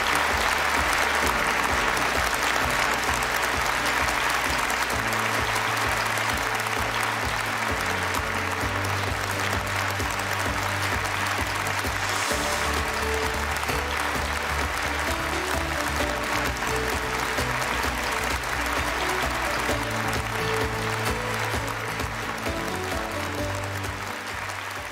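Sustained applause from a large audience at a peace agreement opening ceremony welcomes the Minister of Youth Education, steady and dense clapping filling the hall for about twenty-five seconds, with music or a low hum beneath it.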